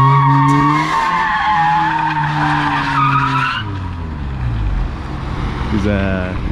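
Mazda RX-8 drifting on a dirt surface closed to traffic, tires skidding with long wavering squeals over a loud engine roar, while people talk over it.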